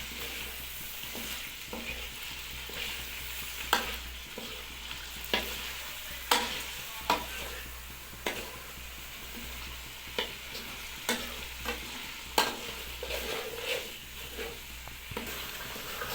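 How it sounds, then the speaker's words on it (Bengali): Chicken with spices sizzles in a pan while a utensil stirs it, producing a quiet continuous fry under irregular sharp clinks and scrapes of the spoon against the pan. "চিকেনটাকে দিয়ে ভালোভাবে মিক্স করে মশলাগুলিকে ভালোভাবে একটু কষে নিতে হবে"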